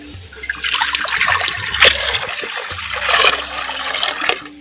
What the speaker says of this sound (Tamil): மண் சட்டி வச்சுக்கிறேன் பச்சை தண்ணி ரெண்டு லிட்டர் சேர்த்துக்கிறேன்